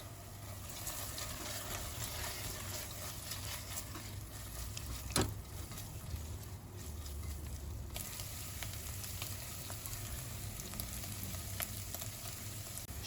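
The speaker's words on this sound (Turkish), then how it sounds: "Bulgurumuzu da malzemelerimizle beraber kısık ateşte yaklaşık 2-3 dakika kavuruyoruz." Steady, soft sizzling of bulgur frying over low heat in a pan, a continuous gentle crackle at close range with a brief clink partway through.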